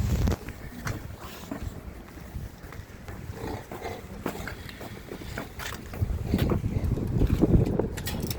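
Blustery wind buffets the microphone outdoors on a cold day in Canada, a continuous low rumbling roar with gusts swelling louder toward the end.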